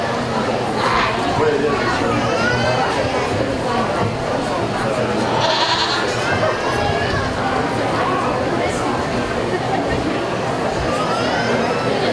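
Goats weighing about 80 pounds bleat during a goat show judging class at the Mason County Fair. Scattered bleats come through a steady wash of crowd chatter, and an announcer talks over them.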